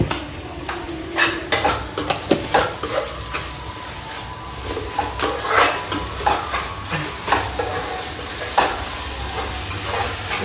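Flattened rice uppittu ingredients stirred in a frying pan, with repeated clinks and scrapes of a spoon against metal over a continuous close sizzle, in an uneven rhythm and without talking.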